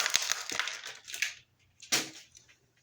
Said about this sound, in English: As you can hear, I'm just cutting away at these plastic strips.